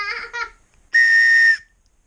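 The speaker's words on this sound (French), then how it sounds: "Ça, c'est un sifflet anglais." A small English military whistle from 1944 gives one steady, shrill blast lasting about half a second, following brief talk at the start.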